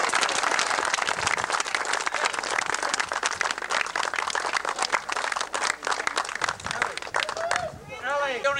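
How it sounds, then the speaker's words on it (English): Sustained round of applause from a crowd at a field house plaque unveiling ceremony, dense and continuous clapping with some cheering that thins toward the end as a voice speaks. "one more final round of applause for the man"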